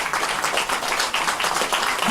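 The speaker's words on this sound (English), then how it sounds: "Please give him a huge round of applause." Audience at an international conference on Industry 5.0 applauding, dense continuous clapping from a crowd in a hall, steady and fairly loud.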